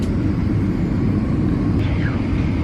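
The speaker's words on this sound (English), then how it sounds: "We are in a plane to Houston." Loud, steady low roar of an airplane cabin in flight to Houston, a constant engine drone filling the space with no clear voices.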